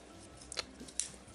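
Scissors on a Leatherman Charge TTi multi-tool snip twice in quick succession, two short crisp metallic clicks close by in a quiet room.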